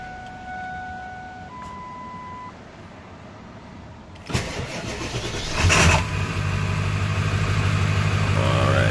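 A few seconds of quiet hum, then the 7.3 diesel engine of a 2000 Ford F-250 XLT Super Duty truck cranks and catches, settling into a steady, low, rumbling idle close by.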